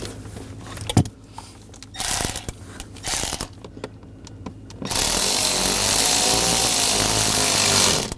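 A ratchet tightens the master cylinder screws on a 2009-2013 BMW 328i xDrive 3.0L L6, with close, quick clicking bursts in several short runs, followed by a steady, loud mechanical whir near the end.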